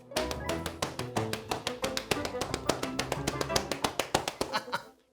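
Children pat their legs to imitate rain during a kids' church service, a quick run of many light, dry slaps that patter along unevenly for several seconds, near and fairly soft.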